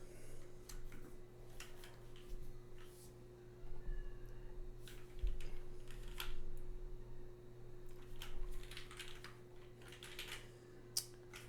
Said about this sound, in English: It sounds like a keyboard.